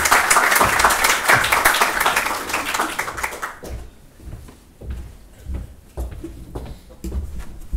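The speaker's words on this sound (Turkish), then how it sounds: "Ben alkışlarınızla Ege Bey'i de sahneye davet ediyorum" An audience at a memorial event applauds loudly as a speaker is welcomed to the stage, dense clapping for the first few seconds that thins out, followed by scattered claps, footsteps and small knocks as the room settles.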